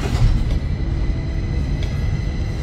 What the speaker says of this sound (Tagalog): dito na kami sa train pa uwi